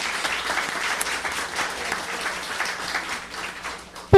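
Audience at a talk on consumer protection law breaking into applause, a dense steady wash of many hands clapping throughout, fairly close and even, cut off by a short tone at the very end.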